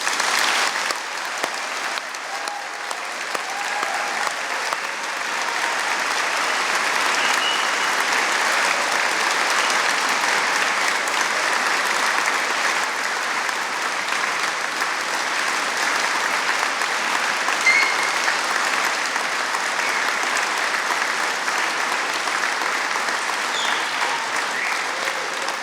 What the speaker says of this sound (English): let's start today's ceremony by giving all of our amazing graduates a huge round of applause.